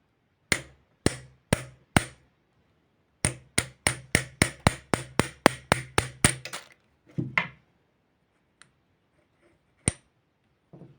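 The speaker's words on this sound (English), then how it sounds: "Press out the gudgeon pin and remove the piston." Gudgeon pin being knocked out of the piston of a 1982 Tomos Automatic 3M moped during restoration: sharp metallic taps, first four spaced blows, then a quick run of about a dozen regular strikes, followed by a few scattered faint knocks in a quiet room.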